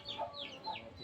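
Brief soft clucking from a hen at a home, a few short warbling calls, faint and close.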